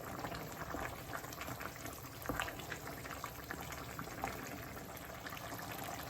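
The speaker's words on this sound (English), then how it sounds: "The gas is already on high heat, so I'm going to give this a good mix." Mutton bhuna with Deggi Mirch and garam masala bubbles and spatters in a pan over high gas heat while being stirred, a steady close crackling simmer with a few louder scrapes, no voices.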